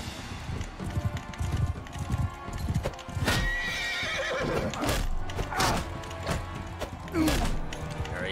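Horses in the medieval battle game Mount and Blade Bannerlord, loud clip-clopping hooves with a sharp neigh partway through, amid clashing battle noise.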